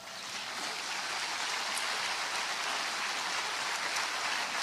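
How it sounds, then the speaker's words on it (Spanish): A church congregation applauds during a Spanish-language service: a steady, sustained wash of clapping that holds evenly for the whole stretch with no break. "¿No le pueden dar un aplauso al Señor?"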